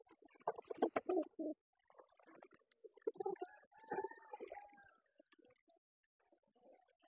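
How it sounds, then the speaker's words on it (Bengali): Caged pigeons on a farm squabble and fight, giving bursts of throaty coos and grunting calls in uneven clusters, fairly close, with short pauses between outbursts. "কবুতর লড়াই তো থামে না"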